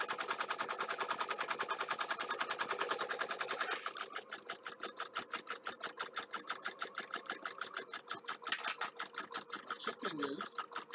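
An embroidery machine stitches at a fast, even mechanical rhythm, first a dense rapid run, then a slightly sparser pulsing pattern, with people chatting faintly underneath in a craft room.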